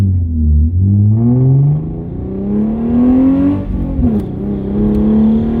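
Hyundai Genesis Coupe with rigid collars and subframe bushing shims accelerating on a test drive, engine note rising steadily in pitch through the gears, loud and close from inside the car, continuous with no talk.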